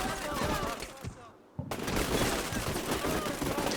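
Troops in the war game Combat Mission Shock Force 2 pour out rapid overlapping rifle and machine-gun fire, a dense crackling fusillade that briefly drops away before resuming at full intensity.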